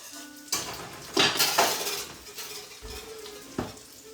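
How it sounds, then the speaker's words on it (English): Cooking in a pan brings a handful of close metallic clinks and scrapes from a whisk or utensil against the pan, spaced irregularly over a quiet background. "Whisk these nice and good."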